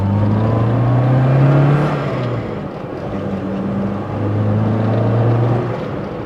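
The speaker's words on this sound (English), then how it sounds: "It's a pretty nice sounding little engine." A Fiat Panda 4x4's small engine runs nearby with a low, steady hum that rises and dips slightly as it revs gently.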